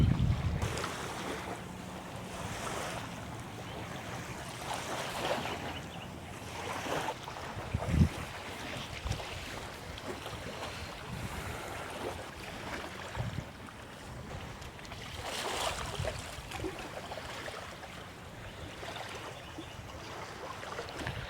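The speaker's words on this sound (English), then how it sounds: "right now we're just exploring Driftwood Beach, which is pretty cool" Ocean waves wash steadily onto Driftwood Beach on Amelia Island as wind buffets the microphone, with a few gusty swells rising and falling over a continuous outdoor rush.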